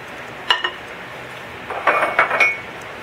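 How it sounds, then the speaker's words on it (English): A utensil clinks against a bowl while egg yolk is mixed into butter and brown sugar for cinnamon cookie crisps, with one sharp tap followed by a brief cluster of scraping knocks. "We're going to add the egg yolk to our butter and brown sugar"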